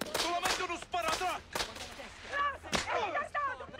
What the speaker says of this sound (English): Sounds like firecrackers.